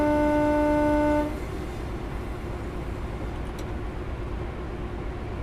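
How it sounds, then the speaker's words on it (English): A loud two-tone HST train horn in Train Simulator sounds for about a second, then gives way to a steady rumble of the moving train that continues alone. "Love the HST horn."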